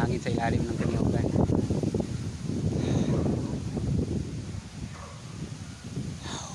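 Steady, rough wind roar buffets the microphone throughout at a seaside spot in Batangas, with a person talking in Filipino over the gusty rumble.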